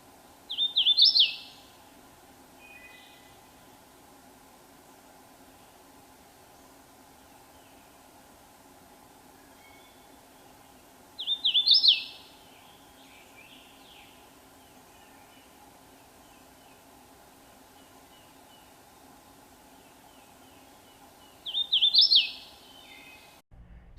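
A warbler sings three short, bright song bursts spaced about ten seconds apart, each clear but fairly distant, over a steady low background hum.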